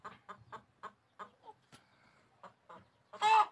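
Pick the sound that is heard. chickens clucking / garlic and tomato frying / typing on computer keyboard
chickens clucking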